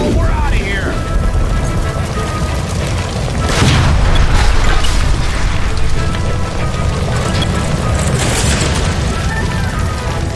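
A shot gas line blows up in the video game L.A. Noire inside the Nicholson Electroplating building, a loud booming blast with crackling debris and rumble that rolls on for several seconds amid shouting voices.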